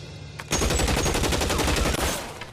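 Rapid automatic gunfire bursts out in a cutscene from the video game L.A. Noire, a dense, loud volley of shots lasting about a second and a half before tapering off.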